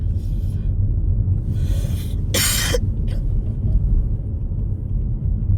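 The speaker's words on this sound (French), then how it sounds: "C'est gênant hein, de tousser comme ça." A single short cough bursts out over a steady low rumble of a car interior, otherwise quiet.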